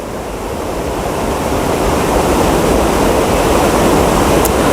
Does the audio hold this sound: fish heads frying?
no